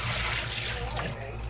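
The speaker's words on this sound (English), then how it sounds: "Just gonna pour all this water out." Water pouring out of a container while making kimchi, a steady close splashing rush that thins toward the end, with no talking over it.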